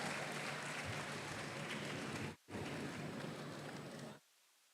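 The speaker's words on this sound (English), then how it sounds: "Give Jonathan a round of applause" A crowd at a youth ICT club conference applauds for Jonathan Reed, a dense steady wash of clapping that breaks off briefly, resumes, then stops abruptly.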